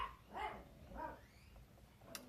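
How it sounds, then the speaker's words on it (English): Small dog barking outdoors, heard faintly from inside, two or three light yaps spaced apart, with a brief higher sound near the end. "you can hear my little doggy. She's just saying hello."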